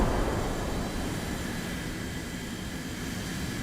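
Enemy aircraft engine roar from the War Thunder combat game, a dense steady drone that starts loudest and holds fairly constant, with no voices over it.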